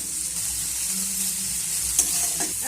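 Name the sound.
stirring and frying tomato and onion in a pan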